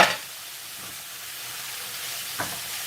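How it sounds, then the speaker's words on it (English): Mixed vegetables, including cabbage, frying in a pan for a pasta and bacon dinner, giving a soft continuous sizzle with a brief clatter at the start and a small knock near the end. "you can see the vegetables now frying"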